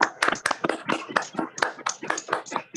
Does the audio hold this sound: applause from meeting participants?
yes